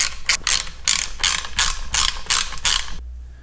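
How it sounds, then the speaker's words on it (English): Back cover being worked off a vintage Caterpillar Eisemann magneto, a series of close, rapid ratcheting clicks in about eight bursts, each roughly a quarter second long, then stopping abruptly. "Next, let's take this back cover off."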